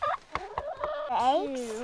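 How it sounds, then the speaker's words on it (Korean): Chickens on a small forest homestead give a short burst of close, clucking and gobbling calls, several quick notes ending in a rising, drawn-out cry. "이곳에서 닭을 기르고 있습니다."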